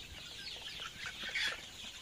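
Desi chickens on a poultry farm cluck in a steady, busy chorus, fairly close and moderately loud, with overlapping calls throughout and no talking.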